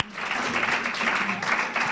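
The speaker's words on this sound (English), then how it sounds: "How about a round of applause for both of our candidates?" A crowd at a university student trustee debate claps in a steady patter of applause, moderately loud and continuous for a couple of seconds.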